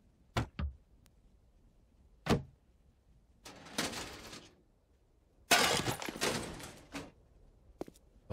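Glass breaking in the video game 7 Days to Die: sparse sharp clinks give way to two longer crunching shatters, followed by a few faint scattered ticks of debris against quiet background.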